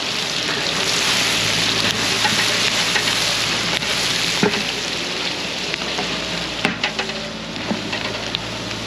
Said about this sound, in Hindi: प्याज और लहसुन को अच्छी तरह भून लेंगे सुनहरा रंग आने तक